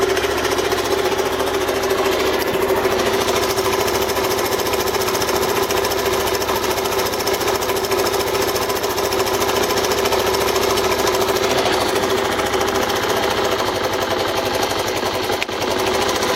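A Suzuki DR 125 motorcycle engine with a carburettor fault drones steadily and buzzingly up close for the whole stretch, a continuous rough, knocking note with little change in level and no talking.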